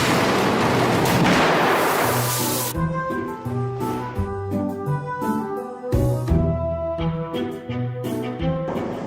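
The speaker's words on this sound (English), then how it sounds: "More bottles of Coke exploded when Stepan turned on the construction" Dozens of Coca-Cola bottles burst at once in a loud, hissing spray that lasts a few seconds, then gives way to music.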